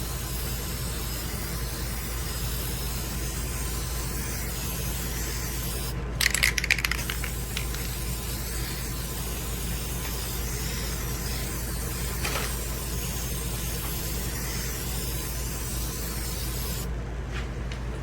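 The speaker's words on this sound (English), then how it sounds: "then we'll spray the back" Aerosol spray can hisses copper coating onto a Honda Civic EG head gasket in a workshop, a steady broadband spray sound running throughout with a brief rattle of the can partway through.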